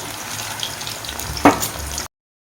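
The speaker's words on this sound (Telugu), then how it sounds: "కొంచెం పన్నీర్ అయితే ఫ్రై చేస్తున్నానండి" Paneer fries in a pan for curry with a steady, close sizzle, broken by one brief louder crackle or stir before the sound cuts off.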